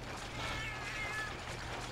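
A cat companion in Monster Hunter Freedom Unite meows, a single drawn-out, fairly loud meow over steady game background sound.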